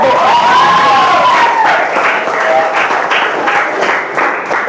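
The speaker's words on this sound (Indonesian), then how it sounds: "kasih aplaus untuk kelompok 1" Applause for a student group in a classroom or seminar session, a steady wash of many hands clapping with some crowd murmur, loud and close, continuing throughout.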